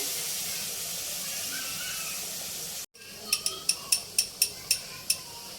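Water poured into a pan of pointed gourd cooking in spices sets off a steady, loud steamy hiss. After a brief pause comes a run of light, evenly spaced taps.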